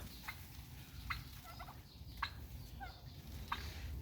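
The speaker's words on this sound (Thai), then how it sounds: "ไก่งวงนี่" A turkey outdoors gives several short, faint gobbling bursts spaced a second or so apart, heard from a distance over a heavy rumbling background.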